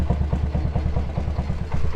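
A 1974 Honda S90z motorcycle, no longer on its original exhaust sound, idles up close with a rapid, even putter of regular low thumps and no voices over it.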